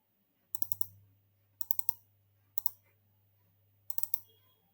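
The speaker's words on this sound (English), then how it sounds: "Click on this link." Mouse clicks on a computer, four small clusters of sharp, crisp clicks with short quiet gaps between them, close and clear over a faint low hum.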